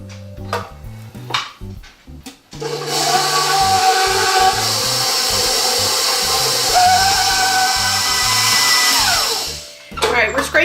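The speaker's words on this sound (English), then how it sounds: "We start by mixing this cream cheese until it's smooth." An electric mixer beats cream cheese until smooth for a pumpkin praline cheesecake, a steady loud whir running about seven seconds after a few short starts, then winding down and stopping near the end.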